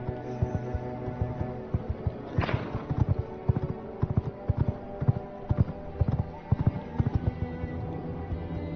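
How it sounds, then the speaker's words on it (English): Horse hooves clip-clop steadily in the video game V Rising, a brisk, regular trot of sharp knocks over ambient game music, with a brief whoosh near the start. "This is just an okay horse."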